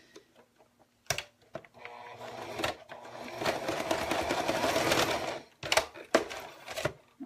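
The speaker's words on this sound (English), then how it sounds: "I'm going to sew it in place and make sure it's straight" A sewing machine stitches a paper-pieced snowman quilt block in one steady run of a few seconds, framed by short bursts and clicks before and after.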